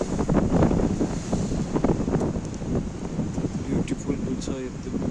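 Sea waves wash ashore at Paphos on the coast of Cyprus, a continuous rushing surge mixed with heavy wind buffeting on the microphone, loud and close, with voices talking over it.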